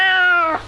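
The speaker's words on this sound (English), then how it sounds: "Meow, meow, meow." One short, clear cat meow, close and loud, that slides downward and cuts off within a second.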